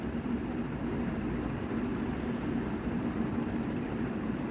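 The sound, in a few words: Changi Airport Jewel sky train running, Singapore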